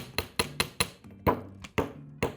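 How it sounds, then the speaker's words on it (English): Chasing hammer strikes a wire heart resting on a steel bench block, seven or eight sharp metallic taps in an uneven rhythm, close and clear with brief ringing after each blow. "So I'm just going to take my bench block and my chasing hammer"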